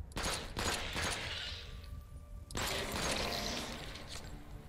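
Rapid bursts of video game gunfire fill the air loudly, with a brief lull midway before another sustained volley of shots; no voices are heard.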